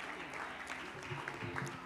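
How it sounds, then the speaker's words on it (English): Congregation at a Sunday church service applauding with hand claps, a soft, distant wash of clapping with murmuring voices underneath. "Sister Tanisha Morris, let's give her another hand clap."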